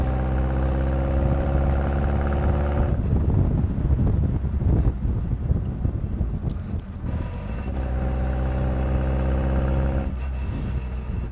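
A stiff-suspension car with a rev-happy engine, heard from inside while riding: a steady, loud engine drone with wind noise, continuous throughout and briefly swelling in the middle.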